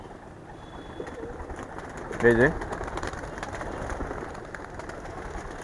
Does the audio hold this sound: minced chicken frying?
no